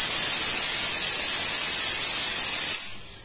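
A pressure cooker on a stove, cooking dal after four whistles, vents steam in a loud, steady hiss that cuts off sharply and fades near the end.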